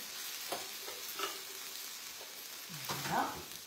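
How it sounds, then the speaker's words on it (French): Small onions and potatoes stirred in a pan: a soft continuous sizzle broken by several scraping strokes of a utensil, close and fairly quiet, with no talking. "on va venir un peu mélanger nos petits oignons"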